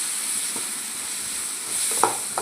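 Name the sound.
large tomato being sautéed in a pan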